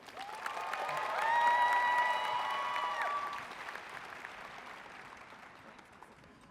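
An audience at a 2023 high school graduation ceremony gives warm applause to welcome a speaker. The clapping swells in the first seconds, then slowly fades out, with no talking over it.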